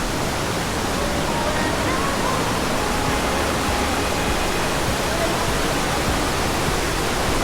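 Ditumabo Falls, a waterfall reached by trekking near Baler, Aurora, roars as a steady broadband rush that fills the whole stretch, loud and unbroken with no change in level.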